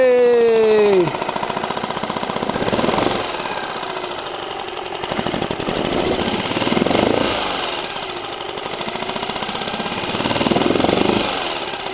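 A Mercury/Tohatsu 4-stroke outboard motor idles close by with a rapid, rough mechanical chatter that gently swells and dips in loudness.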